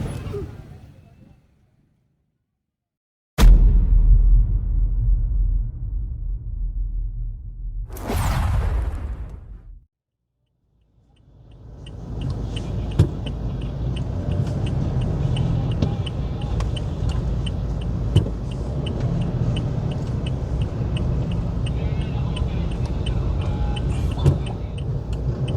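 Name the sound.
tow truck towing illegally parked cars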